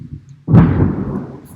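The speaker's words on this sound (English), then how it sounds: "Thunder and lightning outside." A sharp thunder clap from a storm outside the house cracks suddenly after a quiet moment, then booms and slowly fades away, loud and close.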